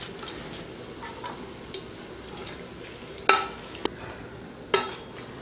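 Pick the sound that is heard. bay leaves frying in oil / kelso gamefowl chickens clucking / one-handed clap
bay leaves frying in oil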